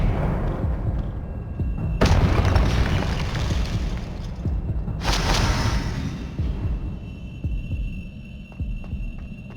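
Spell blasts from the Hogwarts Legacy video game land as two heavy booming bursts a few seconds apart over a continuous low rumble, with game effects humming throughout.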